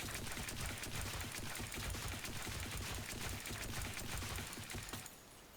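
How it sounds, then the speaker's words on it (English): An AK-NZ rifle tap-fired in a video game: a dense, rapid stream of sharp crackling shots runs steadily for about five seconds, then cuts off abruptly into quieter background. "So we'll go tap fire first."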